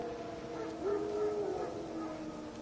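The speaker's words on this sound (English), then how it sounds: "Wild dogs." Wild dogs in The Witcher 3: Wild Hunt give a drawn-out, wavering howl at a distance, a single sustained cry rising over low ambient game sound.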